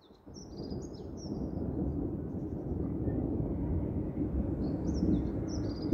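Low, steady rumble of thunder during a summer thunderstorm over a built-up area with houses and overhead cables, rolling on for several seconds with faint birdsong chirping high above it.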